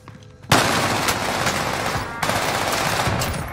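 Rifle fire from an M1 Garand in the video game Call of Duty Warzone comes as loud, sharp shots in two quick bursts, each trailing off into echoing rumble, with no voices over it.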